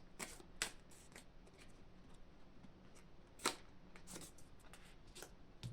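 Tarot cards being shuffled by hand, a few quick crisp riffles and flicks separated by pauses, close and fairly quiet with soft rustling between.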